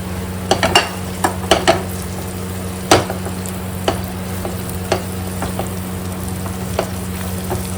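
Mutton brain mixed with turmeric and salt goes into spice paste frying in oil, with a steady sizzle, spoon scrapes and stirring clinks at irregular intervals close by.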